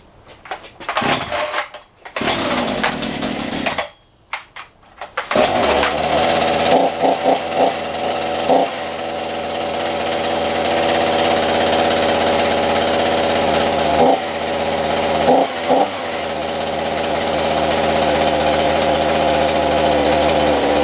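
Champion and Poulan Pro chainsaws, unused for a week, are cold-started at -10 °C: a few choppy pull-start bursts and brief pauses give way to a loud, continuous two-stroke engine drone with occasional revs.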